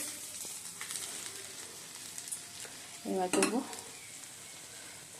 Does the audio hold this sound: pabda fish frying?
yes